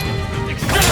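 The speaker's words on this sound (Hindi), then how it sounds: "तलवार टूट गई" A sword shatters during the final mission of Uncharted 4, a loud crashing smash that builds toward the end of the clip over dense game audio, with no speech.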